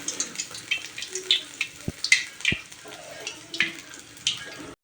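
Urad dal vada batter sizzling and crackling in hot oil in a pan, a steady close hiss with scattered pops and a couple of soft knocks, no talking.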